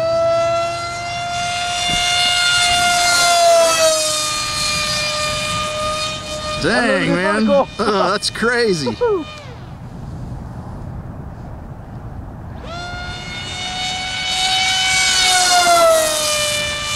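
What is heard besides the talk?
RC foam jet plane motor screaming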